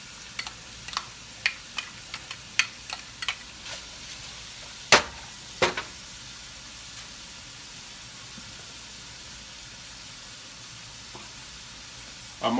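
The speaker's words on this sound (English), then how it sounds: "Next, I'm going to add half a white onion," Half a white onion hits a pan of browning ground beef and sizzles in a steady low hiss, with a run of sharp clicks and taps from utensils early on, then a quieter continuous fry.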